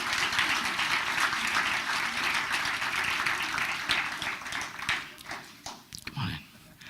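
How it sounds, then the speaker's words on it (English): Audience applause at a township committee meeting greets people coming up for National Diabetes Awareness Month, steady clapping that thins into scattered claps and shuffling movement near the end, with voices mixed in. "a round of applause for National Diabetes Awareness Month and the people who are coming up"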